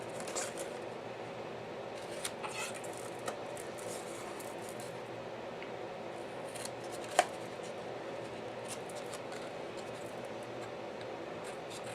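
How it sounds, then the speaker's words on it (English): Scissors snip through cardstock to cut out the last small squares. A few quiet cuts and clicks come close up over a low, steady background hum, with no talk. "And then cut these last 2 squares right there."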